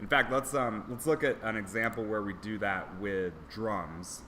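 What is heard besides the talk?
None of the usual background noises is heard.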